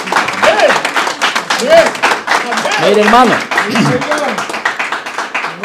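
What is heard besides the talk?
congregation applauding in church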